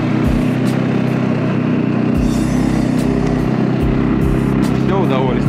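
A CFMOTO CFORCE 600 EPS ATV engine drones steadily while riding through bushes in a forest, with a loud, close rumble and periodic thumps as it pushes through growth, while someone talks over it.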